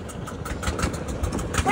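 A boat engine rumbles steadily at moderate volume while riding on the river at Jaflong, Sylhet, with wind and faint background noise and no clear speech.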